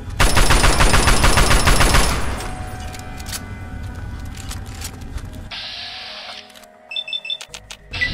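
Loud gunshots ring out in Fallout 3, a dense rattling burst up front fading into quieter game sounds and a few scattered clicks.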